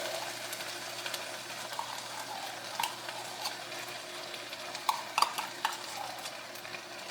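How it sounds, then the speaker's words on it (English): Tomato paste goes into a cooking pot and is stirred through, a soft low sizzle with scattered scraping and tapping of the spoon, fairly faint and close, no talking. "I'm going to put in my tomato paste."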